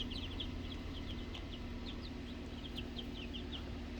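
Young chicks cheep and cluck in a brooder, repeated short calls over a steady low hum, fairly close and moderately loud, with no talking.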